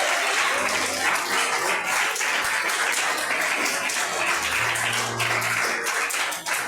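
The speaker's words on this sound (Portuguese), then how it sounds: "Só quem é a igreja dá uma salva de palmas" A church congregation claps together in a steady, dense round of applause that holds at an even level throughout.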